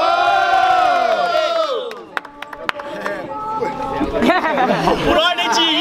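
A crowd roars and cheers loudly at a street rap battle in Guarulhos, São Paulo, with shouts, whistles and scattered clapping, dipping briefly before swelling again into a dense, close wall of noise.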